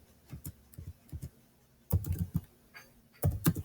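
Computer keyboard typing comes in short bursts of crisp, close key clicks separated by pauses, with denser clusters of keystrokes toward the middle and end.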